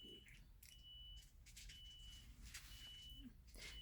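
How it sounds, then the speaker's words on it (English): A fire alarm in a trailer gives faint, evenly spaced high beeps at a steady pace, set against low background noise. "The only thing I have that beeps is my fire alarm"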